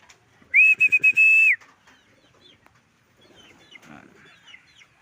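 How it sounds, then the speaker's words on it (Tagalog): A chicken gives one loud, drawn-out call in pulsing bursts, followed by softer scattered chirps and faint background noise. "Itong manok na to makulit eh."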